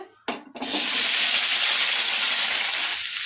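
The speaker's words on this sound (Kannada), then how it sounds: "ಈಗ ಇದಕ್ಕೆ ನಾವು ಕಟ್ ಮಾಡಿ ಇಟ್ಕೊಂಡಿರೋ ಟೊಮೊಟೊ ಹಾಕೋಣ ಕಡಾಯಿಗೆ" Chopped tomatoes drop into hot oil in a kadai with a brief clatter, then a loud, steady sizzling hiss continues unbroken, close by and without talk.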